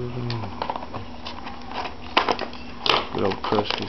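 Old scissors snip open trading card packs, the 2011 Supreme, Absolute and Bowman Sterling boxes, with a couple of sharp crinkly cuts and rustling wrapper sounds close to the mic, under someone talking.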